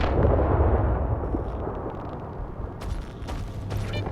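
A grenade blast in the shooter game S.T.A.L.K.E.R. 2 hits with a heavy, booming low thump, then rumbles and decays, followed by scattered crackles and debris-like pops.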